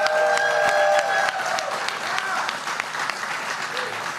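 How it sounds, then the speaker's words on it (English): A crowd at a primary election night event applauds, sustained clapping and cheering at steady volume with a voice briefly heard over it. "Round of applause."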